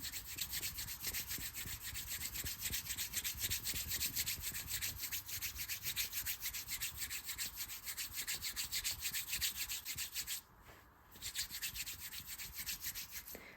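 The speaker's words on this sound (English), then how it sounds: "Using kneading motions almost as if you're kneading dough. Okay, let's do it on this side. So just beginning by rubbing." Steady rhythmic rubbing and kneading of skin or fabric during an ASMR massage, close and even strokes repeating quickly for several seconds, with a brief pause near the end before the rubbing resumes.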